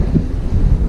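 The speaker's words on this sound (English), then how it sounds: "Because it's really windy today" Steady low rumbling wind buffeting the microphone, loud and continuous with no other sounds.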